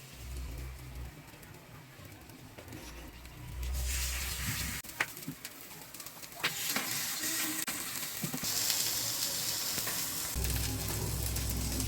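Chicken and vegetable kababs frying in a pan, giving a soft continuous sizzle that swells louder partway through, with a few faint clicks and no talking.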